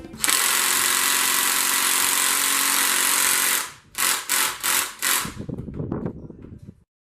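An 18-volt cordless power tool, likely an impact driver, works loudly on seized 14 mm alternator-bracket bolts during engine teardown of a Honda Del Sol, giving a long continuous burst and then several short hammering pulses.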